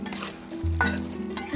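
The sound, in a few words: stirring and frying chicken with green chillies in a pan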